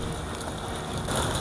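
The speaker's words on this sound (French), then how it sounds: "malgré les caprices de la pluie" Steady rain hisses across the whole stretch during a pre-dawn gendarmerie security operation in Douala, Cameroon. It makes a dense, even wash with a slight swell near the end and no voices.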